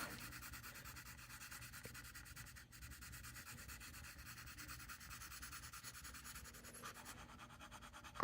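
Colored pencil shading on paper: a soft, continuous scratchy rubbing of the pencil stroking back and forth, close but faint and steady, with no speech.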